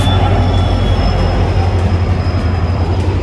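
A train rolls into a railway station on the route toward Udupi, a loud, continuous low rumble with a sustained high squeal of wheels on rails running throughout and no voices.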